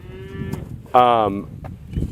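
A cow on a farm gives one loud, close, drawn-out moo lasting about a third of a second, with quieter lowing and farmyard noise before and after.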